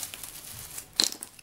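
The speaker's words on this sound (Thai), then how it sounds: "ตัดถุงพลาสติกก็นี่ตัดงี้เฉียบนะครับ" A small pocket shiv knife cuts through a plastic bag, giving a quick, close crinkle and rustle that peaks in one short burst.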